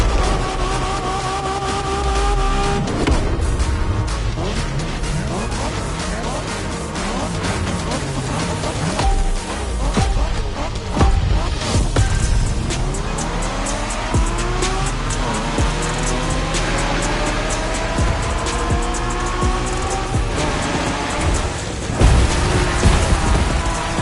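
Race car driving in The Crew Motorfest, Japanese street racing setting: a continuous loud engine roar with rising and falling revs through gear changes, punctuated by tire squeals and skids, with no talk.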